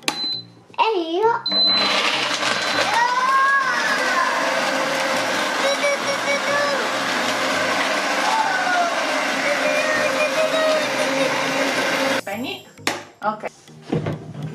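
A kitchen mixer whirs loudly for about ten seconds, blending almond milk and water for a vegan biancomangiare, with people talking before and after and a voice among them.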